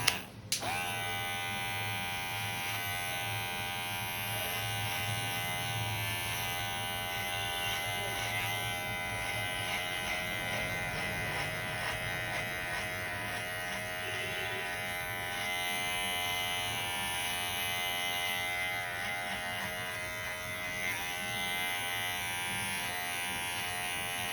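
An electric hair clipper buzzes steadily and close for the whole stretch, with no voices, as it cuts a military-style haircut down to the zero setting.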